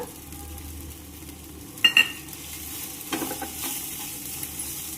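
Spicy mango rice is stirred and mixed in a pan, with soft scraping and a gentle sizzle, a couple of sharp utensil clinks near the start and quieter stirring after.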